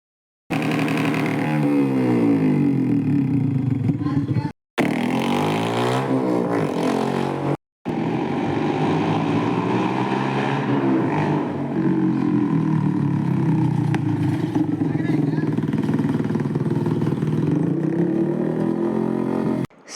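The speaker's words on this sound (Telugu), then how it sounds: "మా కాలేజ్ ఆటోమోటివ్ క్లబ్ వాళ్ళు ఈ గో కార్ట్‌ని బైక్ ఇంజిన్‌తో రెడీ" A college-built go-kart fitted with a motorcycle engine revs loudly and close, its pitch climbing and falling in repeated throttle blips, broken by a few brief cuts, with no talking.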